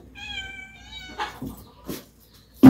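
A cat meows in a long, drawn-out, tonal cry, followed by a few shorter, rougher yowls and a sudden loud knock at the end. Close by, no talking.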